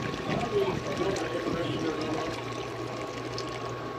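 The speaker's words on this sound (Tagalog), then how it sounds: "Lagyan natin ng tubig." Water pours and splashes into a cooking pot of sautéed garlic and onion for egg noodle soup, a steady close trickle fading as the pour continues, with a voice briefly talking in Tagalog.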